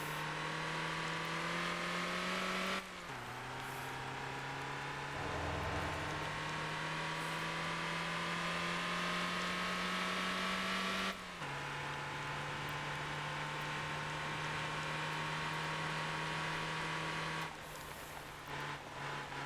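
A truck engine drones steadily in the driving game Motor Town, holding a constant hum with a few abrupt pitch drops like gear shifts, loud and continuous throughout with no one talking.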